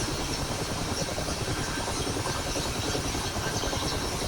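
A Mi-8MTV2 helicopter engine idling during a cold start, a steady, even rumble and hiss with no change in pitch, moderately loud and continuous throughout.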